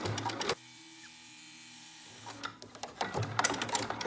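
A sewing machine runs steadily for about a second and a half, stitching a dense satin stitch for scallops along a fabric edge, with clattering handling noises before and after.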